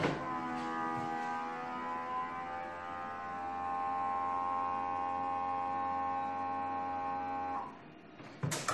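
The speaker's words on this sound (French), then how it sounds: "la fameuse petite machine sous vide Trinton Life de chez AliExpress. Donc je soude un côté." A small Trinton Life vacuum sealer from AliExpress heat-seals one side of a bag, giving a loud, steady electric hum for about seven and a half seconds that then cuts off, followed by a couple of faint clicks.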